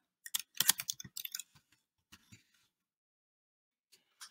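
A computer keyboard is tapped in a quick burst of close, crisp keystrokes, then a few scattered clicks with pauses between.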